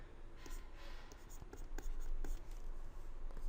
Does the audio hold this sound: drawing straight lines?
yes